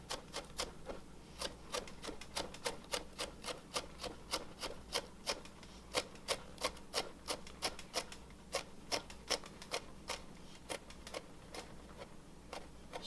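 A knife chops hot peppers into tiny pieces on a cutting board for bean chili, giving a steady run of many sharp, close taps at an even, quick rhythm.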